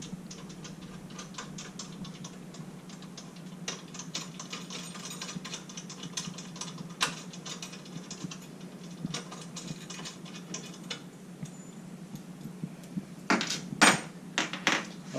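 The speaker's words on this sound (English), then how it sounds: "we're going to remove these thumb screws and take off this latch" Thumb screws and a metal latch being removed from a milling machine table for a power feed installation, giving small scattered clicks, taps and scraping metal contacts over a steady hum, with louder knocks near the end.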